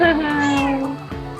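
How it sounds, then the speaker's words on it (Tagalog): A cat gives a clear, drawn-out meow close by, followed by a shorter softer call, with a person talking around it. "Eto naman si Kimi. Meow!"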